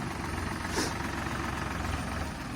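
A tractor engine idles steadily nearby, a low continuous rumble with a faint knocking pulse and no voices.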